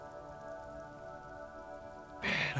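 Steady soft rain patters in the video game Disco Elysium beneath a sustained tonal music drone, then swells into a louder, brighter rush of rain near the end.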